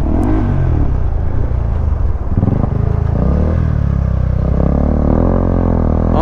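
Motorcycle engines drone loud and close on a winding mountain road from Aparri to Sagada, ridden on a KTM 390 Adventure, a continuous rumbling roar with rising and falling revs and no speech.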